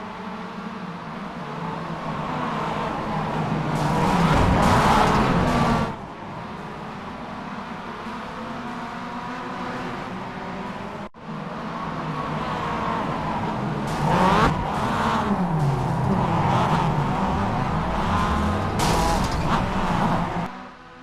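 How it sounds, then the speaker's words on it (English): Mazda MX-5 race cars roar past on track in a cup race, engines loud and revving with a tire squeal mixed in, the pack's noise dropping briefly before surging again. "Mark Greenhow in the orange 555 car with a hectic first lap from 10th on the grid leads the field"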